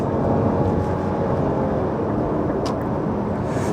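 Nissan Note Aura e-POWER (FE13) accelerating at full throttle from 50 km/h, heard from inside the cabin as a steady, loud, broadband road and motor roar with no talking.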